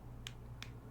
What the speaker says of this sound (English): Sasuke clapped her hands twice, rapidly in a chop-chop fashion